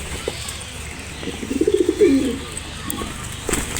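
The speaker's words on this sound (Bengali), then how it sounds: "দুটা কবুতর খাচ্ছে" Two pigeons feeding, giving a short run of low, throaty coos with a soft flutter of wings midway through, close by against a faint background hum.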